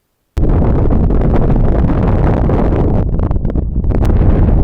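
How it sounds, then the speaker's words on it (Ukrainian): Strong wind in the Carpathian mountains buffets the microphone during a bicycle trip, a loud, continuous roar that starts abruptly and keeps rumbling without a break. "вітер дує капець"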